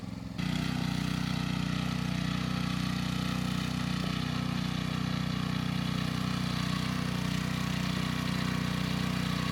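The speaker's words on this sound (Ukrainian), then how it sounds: "чоловік єлі тягне цей мотоблок" A walking tractor's small engine runs steadily with a low, droning chug while digging potatoes in very hard soil, close by and unbroken, with no voices.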